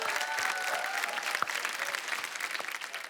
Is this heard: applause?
yes